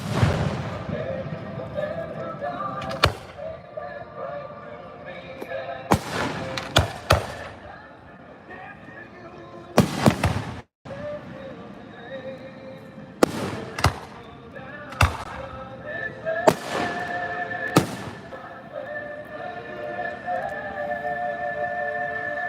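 Third of July fireworks go off outdoors close by, a series of sharp, loud bangs and crackling bursts spaced a few seconds apart over a low background rumble, with people talking and exclaiming throughout.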